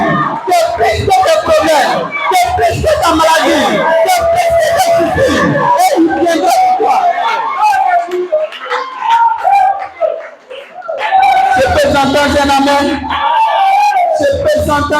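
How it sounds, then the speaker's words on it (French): A church congregation at a Sunday service shouts and whoops for joy, loud overlapping crowd cheering and yelling that dips briefly before surging again, with a preacher's voice mixed in. "Je peux entendre les cris de joie ce matin."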